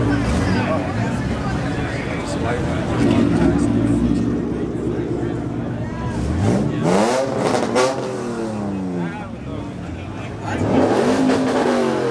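Sports car engines, including a Liberty Walk BMW i8 and Porsche Carrera GT, rev and roar loudly at a car show, rising and falling in pitch amid a noisy crowd with people talking in the background.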